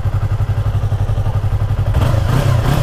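Yamaha R3 motorcycle engine growls steadily up close, a deep throbbing pulse that builds slightly louder near the end, with no talk over it.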